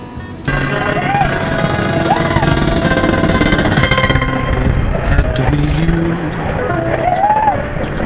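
Riding the X2 roller coaster at Six Flags Magic Mountain: a loud, continuous roar and rattle of the train on its track close by, with screaming voices rising and falling over the rumble.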